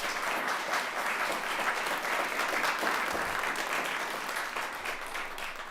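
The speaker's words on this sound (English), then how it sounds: "One more round of applause for all of our 4 finalists." Audience at a poetry recitation competition applauding its four finalists, a moderately distant, even wash of clapping that holds steady throughout.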